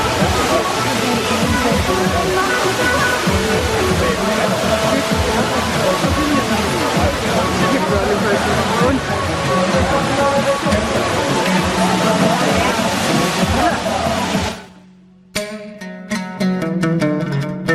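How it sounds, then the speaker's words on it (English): The smallest of seven waterfalls near Marrakech roars in a loud, continuous rush of falling water, with people talking faintly beneath it before the sound cuts away near the end. "So we have reached the first of 7 waterfalls."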